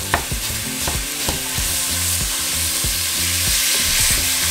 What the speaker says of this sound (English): we're just going to cook the meat for about 10 minutes or until all of our meat is brown